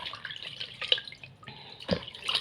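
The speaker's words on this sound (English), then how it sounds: "You wash your hands with soap and water." Tap water running and splashing at a sink during handwashing with soap, a steady broadband wash with drips and small splashes, fairly close.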